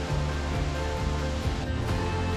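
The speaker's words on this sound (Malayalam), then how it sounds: "ഏകദേശം 300 അടി ഉയരമാണ് ഈ വാട്ടർഫോളിനുള്ളത്." Continuous heavy roar of Palaruvi waterfall, a rocky falls about 300 feet high in Kerala, loud and steady with no voices.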